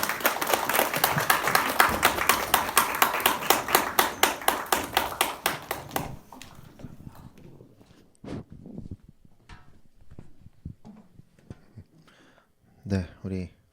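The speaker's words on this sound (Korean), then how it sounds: "큰 박수로 좀 환영했으면" A congregation at a Monday worship service claps to welcome the pastor: about six seconds of steady, rhythmic unison clapping that fades out, followed by quieter scattered sounds and a brief voice near the end.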